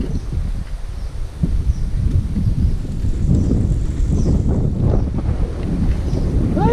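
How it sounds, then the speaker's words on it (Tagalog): Wind buffets the microphone on a mountain ride toward Bugoys Peak, a continuous low rumbling roar with gusty swells and no talk. "sarap ng simoy ng hangin"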